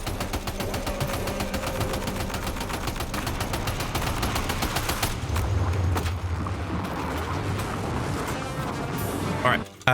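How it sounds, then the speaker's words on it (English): Rapid machine gun fire rattles on in a tight, steady stream for most of the stretch in Death Stranding 2: On the Beach, with game sounds and a voice talking over the top. "Go on, another machine gun, why not?"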